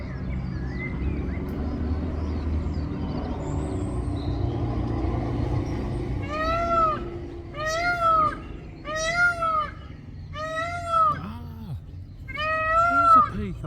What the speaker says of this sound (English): There's the male peacock on the roof. That's what the noise is.